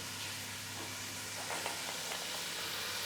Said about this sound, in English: So the butter's starting to sizzle now